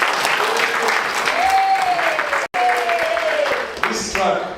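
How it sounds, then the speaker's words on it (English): Conference audience at a sickle cell disease and hemophilia event applauds in a loud, dense ovation of many hands, with a voice and a brief tonal whine heard over the clapping and one abrupt momentary dropout midway. "Round of applause to me"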